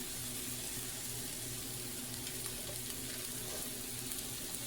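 Thin zucchini slices frying in a little oil in a Teflon pan, a steady, quiet, continuous sizzle with no talking.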